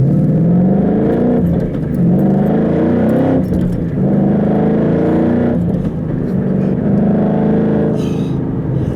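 A 2013 Ford Mustang GT driving and revving, its loud engine rumbling continuously up close with repeated surges and dips as it climbs through gears, a few faint clicks or knocks on top.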